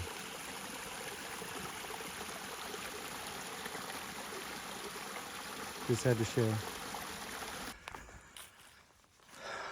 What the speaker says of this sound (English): It's a small waterfall